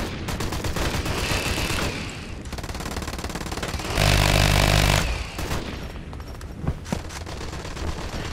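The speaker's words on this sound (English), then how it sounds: "You got the minigun again?" Minigun firing in the video game Special Forces Team X: loud continuous rapid bursts of gunfire with a heavier blast partway through and scattered impacts, with no talking.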